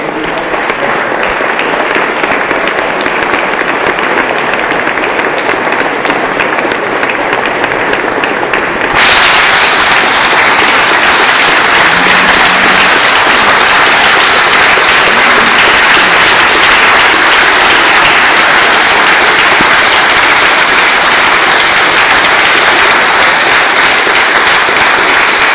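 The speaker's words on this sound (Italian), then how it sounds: "Un ricordo, un saluto e un applauso a Beppin Segato" Prolonged, loud applause from a large crowd in memory of Beppin Segato, a thick steady roar of clapping with a sudden brighter, fuller shift partway through that holds to the end.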